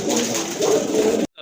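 A pair of Bagha Silver pigeons offered for sale give a steady, close run of low cooing that carries on without talk and then cuts off abruptly.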